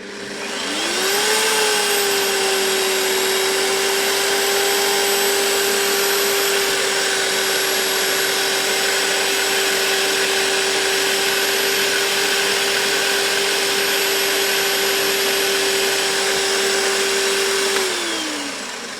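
A Parkside PTBMOD 710 A1 bench drill press spins up and runs at maximum speed, a loud steady motor whine holding an even pitch for about sixteen seconds before winding down at the end.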